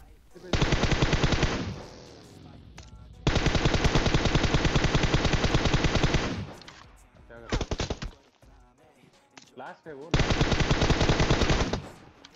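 Sustained UZI bursts in a PUBG Mobile match, long rapid automatic strings several seconds each separated by brief pauses, loud and close, with faint game sounds between volleys.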